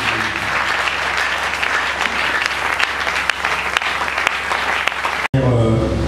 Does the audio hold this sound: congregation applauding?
yes